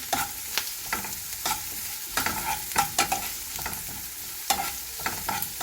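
Onions and green chillies fry in a pan while a spoon stirs them, giving a steady close sizzle broken by regular scraping strokes, with no talk.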